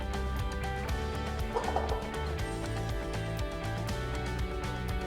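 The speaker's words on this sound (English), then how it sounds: "These are sandhill cranes, and there's a little baby there as well." Sandhill cranes, adults with a chick, call near a residential lake community at Lakewood Ranch, giving loud rolling, rattling, gobble-like calls that repeat steadily over a constant background.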